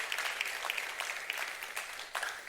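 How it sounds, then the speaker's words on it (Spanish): A church congregation applauds, a dense, steady patter of many hands clapping at moderate distance for a couple of seconds. "Denle un aplauso al Señor, amén."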